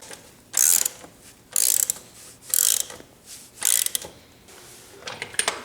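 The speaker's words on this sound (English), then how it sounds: "We'll torque the nut to 75 foot-pounds." A ratchet wrench tightens the nut on a motorcycle's rear drum brake, sounding as four loud, close bursts of rapid clicking with short quiet gaps between, followed by a few lighter clicks.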